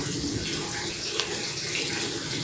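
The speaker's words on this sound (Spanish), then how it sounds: "Sobre este ojito de agua que tenemos y que todavía perdura." Water runs steadily at a small spring in Tandaá, a continuous close splashing trickle with an even hiss and no breaks throughout.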